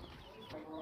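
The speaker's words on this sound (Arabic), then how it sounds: "ده طبعا ديك بلدي" A local-breed rooster gives faint, soft clucks, heard from a short distance in a quiet farmyard setting.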